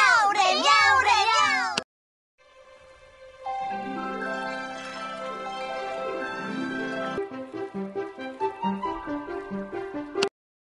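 Cartoon cats in a treasure adventure video game let out a quick string of bright, sliding meows, followed after a short pause by plinking game music with dripping, watery chimes.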